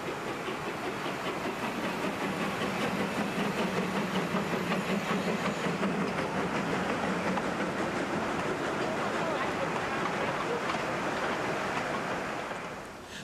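A steam train running on the Furka mountain pass route in Switzerland, a continuous loud rumble and rolling rail clatter held steady before easing slightly at the end.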